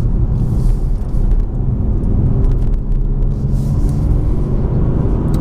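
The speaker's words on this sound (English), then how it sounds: "really drop the car into third gear and it just squirts past other vehicles like that" A BMW M2 Competition accelerates hard in third gear while overtaking other traffic, its engine giving a steady, loud rumble with road and wind noise throughout.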